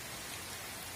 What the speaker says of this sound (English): And it's raining a lot.